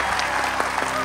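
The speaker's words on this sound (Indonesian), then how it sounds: "Tepuk tangan sekali lagi buat Arif." Audience applause breaks out in a studio talk show, a short burst of dense clapping with a few distinct sharp claps close by.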